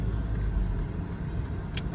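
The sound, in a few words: car driving in traffic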